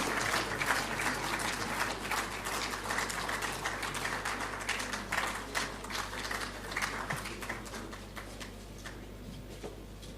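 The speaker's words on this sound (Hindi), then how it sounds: "तालियों की गड़गड़ाहट चलती रहनी चाहिए" An audience at a photography awards ceremony applauds continuously with dense, steady clapping that stays fairly even for about ten seconds, heard from a moderate distance.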